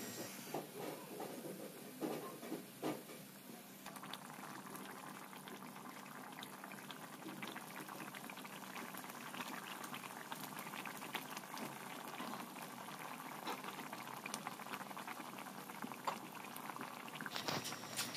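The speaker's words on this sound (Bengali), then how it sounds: "পরিমাণ মতো জল দিয়ে এবার ফুটে আসা পর্যন্ত অপেক্ষা করতে হবে" Water and spices boil steadily in a pan for a rui fish curry, a continuous close bubbling hiss that stays even throughout with no talking.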